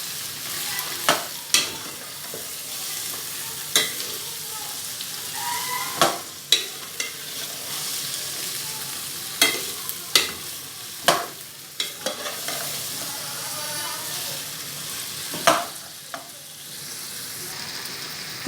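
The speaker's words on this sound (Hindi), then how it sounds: "कुछ देर आलू को फ्राई करते हैं।" Potatoes fry and sizzle in a pan under a steady hiss, broken by repeated sharp scrapes and clinks of a spoon stirring them, close and alone without talk.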